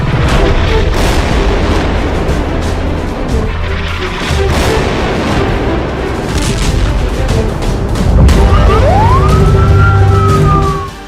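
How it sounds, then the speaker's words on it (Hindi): Explosions and sirens in war footage from the Israel–Hamas conflict: heavy booms and crackling blasts fill the scene, then a loud siren wails upward and holds its tone near the end. "ये धमाके तो बहुत छोटे हैं"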